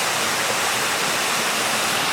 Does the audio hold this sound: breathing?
no